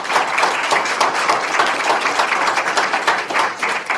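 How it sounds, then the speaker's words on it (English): Dense audience applause at a district attorney candidate forum at a law school, steady clapping from many hands filling the room for about four seconds, loud and continuous with no talk. "I just want to give one big round of applause"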